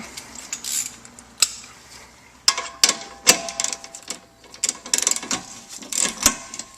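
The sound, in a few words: ratchet loosening an 18mm bolt on a Panhard bar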